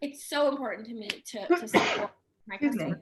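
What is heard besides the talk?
sneeze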